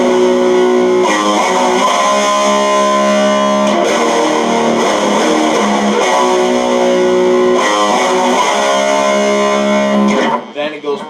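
A heavily distorted electric guitar plays a riff. It sounds as sustained, loud power chords and single-note phrases in a repeating pattern, then cuts off abruptly near the end.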